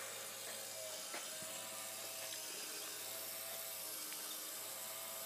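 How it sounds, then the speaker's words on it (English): Conveyor drive motor running steadily at quiet-to-moderate level, its pitch and load audibly rising and falling as it lugs and unlugs, with faint mechanical ticks and rattles from the nut-and-shaft conveyor mechanism. "it sounds like something's not running quite straight, the way the motor's lugging and unlugging"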